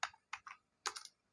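Typing on a computer keyboard during a JavaScript coding session, with three short bursts of close, crisp key clicks separated by brief pauses and no talk.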